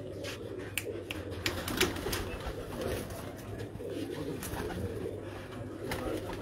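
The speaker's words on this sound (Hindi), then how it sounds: "कबूतर दिखाएं और दूसरा" A racing pigeon coos in low, soft, repeated rolls close by, while sharp clicks and rustles come and go around it.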